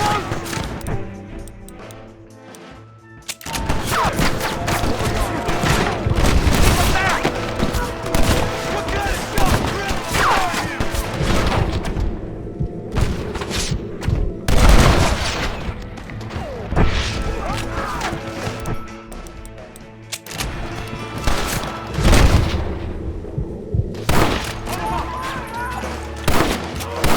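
Gunfight in the video game Red Dead Redemption, with repeated bursts of gunshots and sharp cracks layered over a busy, loud mix, volleys clustering and easing off through the stretch alongside shouting voices.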